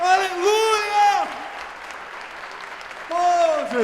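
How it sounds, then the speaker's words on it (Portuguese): A church congregation claps steadily for a couple of seconds, bracketed by loud, excited shouted voices at the start and end of the burst. "Vamos aplaudir o Senhor Jesus."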